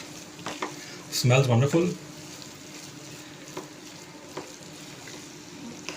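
Vermicelli with vegetables being stir-fried in a pan for a Chinese-style snack gives a close sizzle and stirring scrape, with a brief louder burst of frying and a short spoken remark over the cooking.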